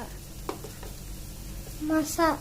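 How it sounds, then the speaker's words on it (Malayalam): Lentil curry frying with chili powder being stirred in, a soft continuous sizzle with a few spoon scrapes, then a short burst of voiced sound near the end. "മുളക് പൊടി ഇട്ട് കഴിഞ്ഞിട്ട് നന്നായിട്ട് ഇളക്കുക"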